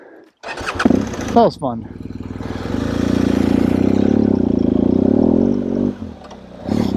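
A BMW motorcycle engine starts up close by with a sharp burst of revving, then settles into a loud, steady, rumbling run before dropping off, while a person speaks briefly near the start.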